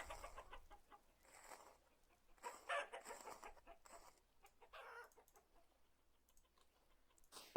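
Chickens in the video game Vintage Story cluck and squawk in scattered bursts, fairly faint, with a sharp louder call near the end.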